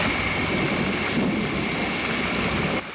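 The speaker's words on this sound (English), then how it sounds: "Rain did come in June." Steady June rain on a family farm, a dense continuous hiss of falling water with a low rumble beneath, loud and close throughout before easing slightly at the very end.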